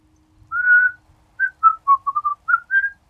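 A person whistles a short tune alone in a quiet room: one longer held note followed by a quick run of short, bright chirping notes, close and clear with no talking.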